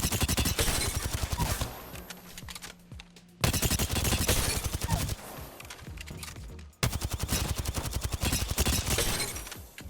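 Rapid automatic gunfire from shooting training dummies in the Apex Legends video game comes in three long sustained bursts, each loud and close, separated by short pauses.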